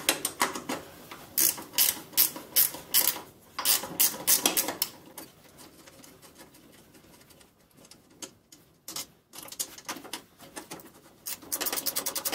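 Tools working on the battery connections at the terminals of a Cub Cadet garden tractor's solenoid, producing close, irregular metallic clicks, ratcheting and clattering bursts separated by quieter pauses.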